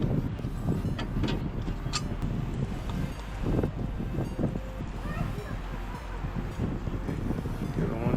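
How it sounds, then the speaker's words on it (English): Wind buffets a microphone outdoors during aluminum framing work on a jon boat deck, a constant low rumble with someone speaking briefly over it. "Sorry about the wind."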